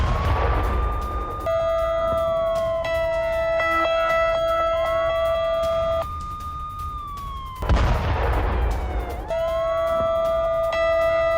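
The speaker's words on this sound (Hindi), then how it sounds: "एयर रेड अलर्ट सायरन वहां" Air raid alert sirens in Cyprus wail, rising and falling continuously, with loud bursts of noise like blasts cutting in twice.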